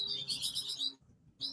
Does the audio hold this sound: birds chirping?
yes